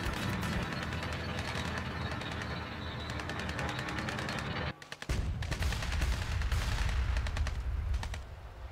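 Rapid bursts of machine-gun fire crackle as rebels battle tanks in Tropico 5, dense and continuous with a brief pause midway before the volleys resume louder and heavier.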